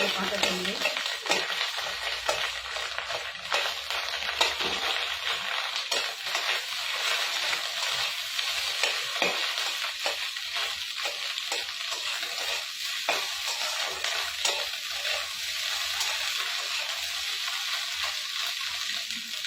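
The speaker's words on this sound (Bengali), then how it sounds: "বন্ধুরা ডিমগুলো লাল লাল করে ভাজা হয়ে গেছে" Eggs fry in a pan until browned, a lid used on and off over them, giving a continuous bright sizzle with scattered scraping and stirring clicks throughout, close and fairly loud.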